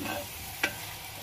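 Potato and fenugreek curry cooks slowly on low gas in a pan, giving a soft, steady sizzle with one brief stirring scrape in the middle.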